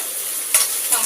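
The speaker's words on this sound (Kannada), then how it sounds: "ಟೊಮೊಟೊ ಎಲ್ಲ ಫ್ರೈ ಆಗಿದೆ" Tomatoes and onions fry in a pan with a constant close sizzle, broken by two short spoon scrapes against the pan.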